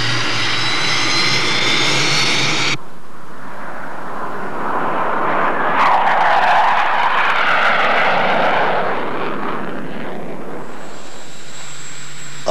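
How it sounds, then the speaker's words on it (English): A specially equipped NASA jet in flight, its steady engine roar filling the air at close range, loud and continuous with shifting tone, no voices. "A specially equipped NASA jet allows us to see some of its most striking features from the air."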